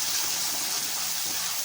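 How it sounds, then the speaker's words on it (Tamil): Water gushes steadily into masala paste sautéed in oil in a pan, a continuous hissing pour of moderate loudness with no break. "தண்ணி எடுத்து ஊற்று."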